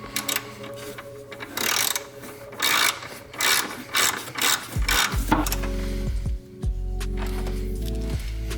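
A ratchet tightens the clamps of a PRL Cobra cold air intake on a 2019 tenth-generation Honda Civic hatchback. Loud, close clicking comes in several repeated bursts, followed by a few heavier mechanical clunks.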